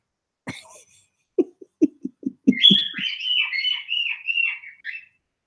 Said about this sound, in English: Now he's doing bird calls.